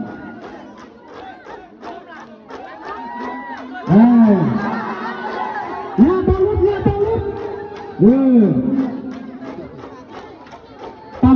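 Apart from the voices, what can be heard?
crowd cheering at a festival event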